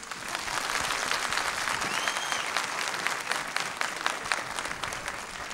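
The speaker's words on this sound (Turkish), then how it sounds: "Evet alkışlayın." Studio audience applause on a Turkish television talk show, a steady, fairly loud wash of many hands clapping, continuous throughout with no talk over it.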